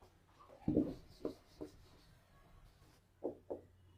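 Eraser rubbing across a classroom board in a few short strokes: one louder swipe, then several softer brief rubs spread apart, followed by a pause and two more quick swipes, with no talking.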